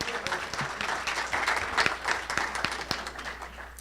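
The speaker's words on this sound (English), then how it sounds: "you can clap now" An audience at a public launch event claps in a moderate, scattered round of applause, individual hand claps audible within the wash, with faint voices underneath.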